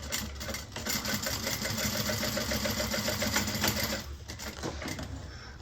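A sewing machine top-stitches a Nyla handbag in a fast, even mechanical chatter for about four seconds, then stops, leaving quiet handling noises.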